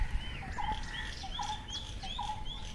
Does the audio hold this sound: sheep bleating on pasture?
no